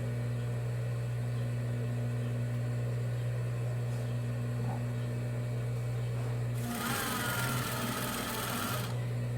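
Domestic sewing machine stitching a Christmas cushion, a short whirring run of rapid stitches lasting about two seconds over a steady low electrical hum, with no talking.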